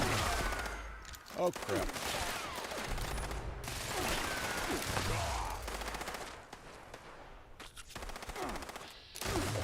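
Dense, sustained gunfire in Fallout 76 rattles on through most of the stretch in loud overlapping bursts, with a brief exclamation from a player partway through.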